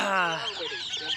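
Chickens give a quick, high, squawking cluck, loud and close, that fades into softer chatter within about a second.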